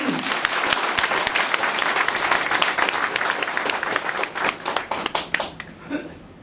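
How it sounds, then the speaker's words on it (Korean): Audience at an office opening ceremony applauding, a lively crowd clap that stays full for several seconds, then thins into a few separate, louder claps before fading out. "많은 박수 쳐주셔서 고맙습니다."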